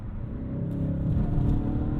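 A 2020 Mercedes-Benz S63 AMG, 605 hp, heard from inside the car as the engine rumbles and swells steadily while downshifting and accelerating, a continuous low drone with no talking.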